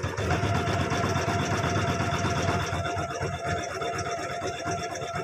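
A computerized embroidery machine stitches a full back-neck design in a single hoop, giving a steady, loud mechanical whir with a fast rhythmic needle chatter that runs unbroken throughout.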